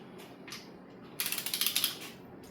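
Torque wrench ratcheting on the engine bearing caps of a Twin Cam engine rebuild: a quick run of about ten close metallic clicks, near and fairly loud, after a few softer faint ticks.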